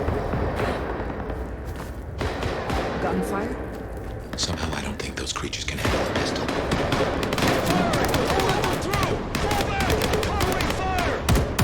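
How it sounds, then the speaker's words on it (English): Gunfire in the video game Vampire: The Masquerade – Bloodlines 2: rapid bursts of shots and sharp cracks crowd the mix, mostly under a speaking voice and background game sounds. "Gunfire?"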